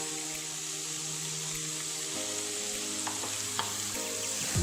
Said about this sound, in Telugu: ఈ బటర్ కొంచెం కరిగాక ముందుగా కట్ చేసుకున్న ఈ పన్నీర్ ముక్కలను కొంచెం లైట్గా ఫ్రై చేసుకోవాలండి